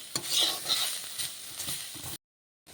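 Green chillies frying in a pan give a close, steady sizzle with scraping stir strokes for about two seconds, then silence.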